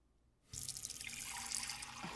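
Tap water runs steadily from a faucet after half a second of near silence, a broad continuous rush that fills the clip at close range with no voices.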